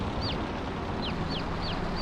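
Small chicks in a farm role-play video game give brief repeated clucking chirps, four short calls spaced across a steady background hum.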